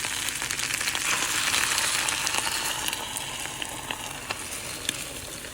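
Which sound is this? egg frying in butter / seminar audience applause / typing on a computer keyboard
egg frying in butter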